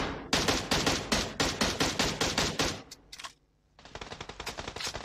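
Automatic rifle fire in the video game PUBG Mobile: a long run of rapid, evenly spaced shots, a brief break with a couple of scattered shots, then another steady burst, loud and close.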